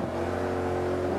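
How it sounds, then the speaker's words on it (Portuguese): A Mercedes SLR tuned in Forza Motorsport 5 accelerates hard, its engine note a loud, steady, harmonically rich roar that holds throughout with no voice over it. "Acelerando e freando."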